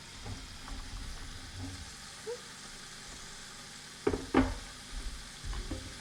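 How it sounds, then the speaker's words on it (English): Soft, steady sizzling of chicken sausage frying in a saute pan with zucchini noodles, with a few louder clatters and scrapes of stirring partway through. "So we'll get the sausage in there, starting to sizzle."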